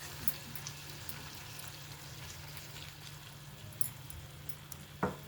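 Juicy native tomatoes fry in a pan for a curry with a faint, steady sizzle and light crackle, broken by a few soft pops and a clink near the end.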